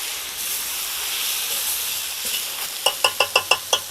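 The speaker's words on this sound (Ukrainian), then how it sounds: "Гарно все перемішуємо." Steady sizzling of vegetables for borscht in a pan, then a run of six quick scraping stirs near the end, close and fairly loud.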